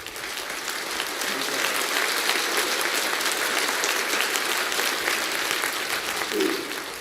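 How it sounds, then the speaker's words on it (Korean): Loud, dense audience applause fills a large hall at a religious coronation ceremony, holding steady and continuous for about seven seconds without a break. "박수 한번 하세요. 박수."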